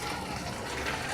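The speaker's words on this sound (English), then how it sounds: "I'm going to take your beaten 3 eggs, get it in the pan, like so" Three beaten eggs poured into a buttered pan, giving a steady, close liquid wash with a faint sizzling hiss throughout.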